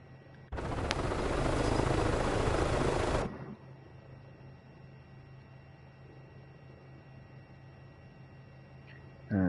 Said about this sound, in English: You see our engine's now running down.